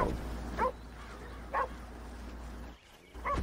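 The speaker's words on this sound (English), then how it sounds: "Oh, I hear a dog." Dog barking in a video game, a few short barks spaced apart at a moderate distance over a steady low background hum.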